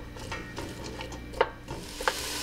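Onions frying in a pot for beef barley soup, a soft steady sizzle under the occasional scrape and clack of a stirring utensil, close and fairly quiet with no talking.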